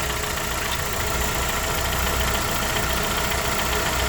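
A 2001 Kawasaki ZX motorcycle engine idles during an oil change, a close, steady low rumble with a faint mechanical knock throughout, no talking.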